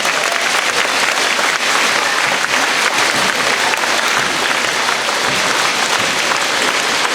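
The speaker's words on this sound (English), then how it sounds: "give them all a nice round of applause" A school spring concert audience applauds young musicians and their conductors, with thick, sustained clapping from a large crowd filling the hall evenly for the full stretch without any speech over it.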